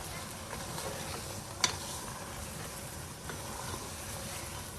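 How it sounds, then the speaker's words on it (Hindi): Chicken frying in oil with garlic ginger paste: a steady, fairly quiet sizzle throughout, broken by one sharp clink of a utensil against the pan. "अब हम लहसुन अदरक का पेस्ट डाल देंगे इसके अंदर। अब इसके साथ करेंगे भुनाई अच्छे से चिकन की।"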